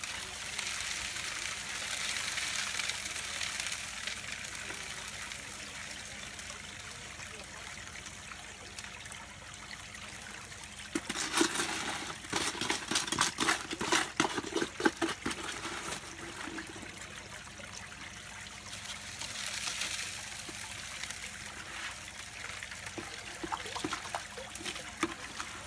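Water runs steadily through cleanup equipment as it washes away dirt, a continuous trickling rush with a louder, choppier splashing burst midway before settling back to a steady flow.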